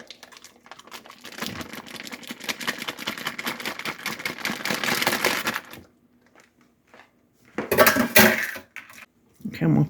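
A utensil chops and scrapes partly frozen 93% lean ground beef in a pan, giving dense rapid clatter and scraping for several seconds, then a pause and a few more bursts of scraping nearby.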